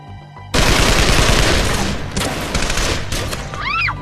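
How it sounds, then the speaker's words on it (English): Sustained, loud fully automatic AK-47 gunfire erupts after a brief quiet moment during a shootout, rapid bursts blending into a continuous roar, with a couple of ringing whines near the end. "He raised that AK-47 and began spraying the fully automatic gunfire."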